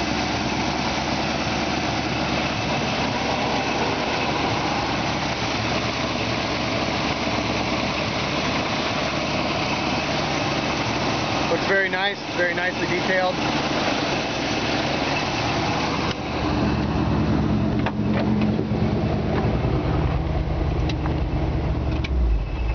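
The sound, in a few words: 1950 Ford F1 truck with 305 engine idling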